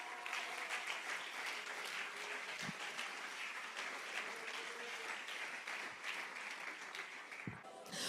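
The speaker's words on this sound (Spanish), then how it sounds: "Si usted lo cree, dele un aplauso al Señor Jesús en esta hora." Church congregation applauding during an evangelical service, a sustained crowd clapping that continues steadily throughout, dense and fairly distant with a few louder thumps.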